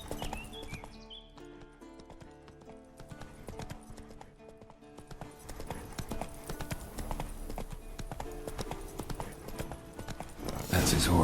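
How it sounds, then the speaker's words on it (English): Steady clip-clop of a horse's hooves at a walking pace in The Witcher 3 video game, close by, with a soft rhythmic thud under faint background sounds and a brief louder rustle at the end. "That's his horse."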